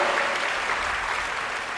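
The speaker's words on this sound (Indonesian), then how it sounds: "kita beri tepuk tangan untuk jawaban dari Bante ya" An audience at a Buddhist dhamma talk gives a brief round of steady applause for a monk's answer, an even wash of clapping with no speech over it.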